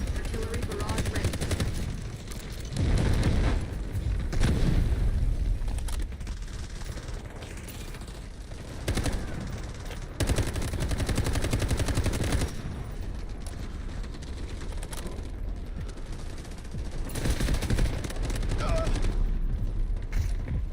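Heavy gunfire and explosive bursts from an artillery barrage in the shooter game Delta Force, loud and dense with sustained rattling volleys and booming surges throughout, a voice speaking at moments over the din.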